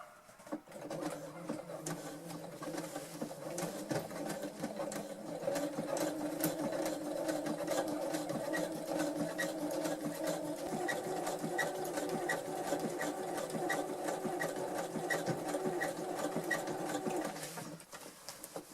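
A sewing machine runs a zigzag stitch on jeans, a close, steady rhythmic whirring that carries on for most of the stretch with a brief start-up and a trailing stop.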